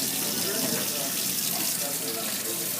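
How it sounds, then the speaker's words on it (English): Water runs steadily from a tap to rinse paint off airbrush parts, a loud continuous splashing rush that fills the whole moment. "Then run it under some water."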